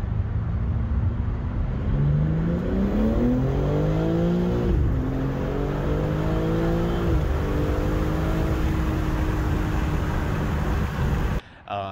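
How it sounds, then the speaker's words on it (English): A BMW G80 M3 makes a hard full-throttle acceleration pull, its engine note climbing steeply through several gears with distinct shift dips, loud and close from inside or near the car, then cutting off abruptly at the end. "And that was the first pull that I ever had actually done in the car."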